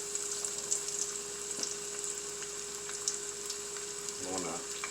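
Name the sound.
flounder fillets frying in a pan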